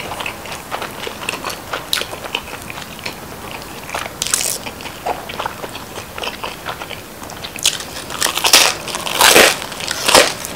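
Crispy Chicago pizza crust is bitten and chewed close to the mic in an eating show, giving repeated loud crunches that build into dense bursts toward the end, with no talking.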